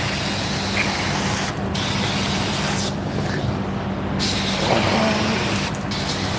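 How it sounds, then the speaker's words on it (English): An aerosol can sprays cleaner beneath a Toyota Corolla during a CV axle replacement, giving a steady close hiss in several short bursts over a constant low hum. "Let me just give it a quick spray."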